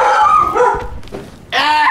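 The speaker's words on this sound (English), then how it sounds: "that's our wonderful dog" A dog barks in short, sharp bursts close to the microphone, a couple of yips and woofs with a brief pause between them, loud and alone.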